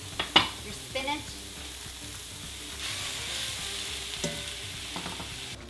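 Mushrooms and spinach sauté in a hot pan with salt and pepper, giving a steady close sizzle broken by a few sharp clinks and scrapes of stirring.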